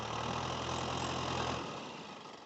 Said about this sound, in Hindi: देख लो ट्रैक्टर क्या रुख के साथ चलता है यार, पूरी रफ्तार के साथ, बिना आरपीएम ड्रॉप किए